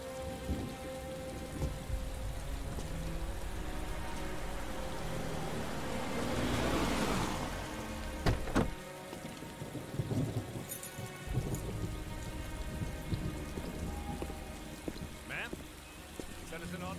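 Steady rain with rumbling thunder in the video game Beyond: Two Souls, a continuous wash of downpour holding throughout, with a brief sharper thunder crack midway and a low swell of storm noise.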